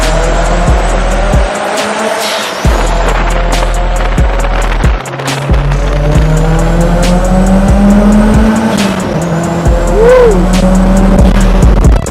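A 400 hp Mitsubishi Lancer Evo roars close and loud, its engine note climbing and dropping through gear changes, with tire squeal and interior rattles over a constant road rumble.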